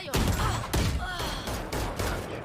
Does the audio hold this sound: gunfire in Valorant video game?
yes